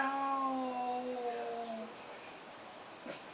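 An elderly man imitates a cat, giving a long, drawn-out meow that rises then fades, followed by quiet room tone and a faint brief sound.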